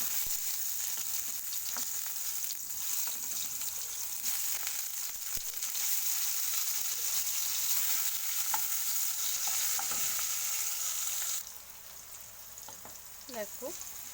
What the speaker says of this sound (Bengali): দেখো আলু ভাজা হচ্ছে